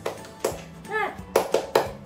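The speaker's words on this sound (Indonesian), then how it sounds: "kita tepuk semangat dulu yuk" A group of schoolchildren claps in a quick rhythmic pattern, sharp bursts of hand claps alternating with children's voices chanting a classroom cheer.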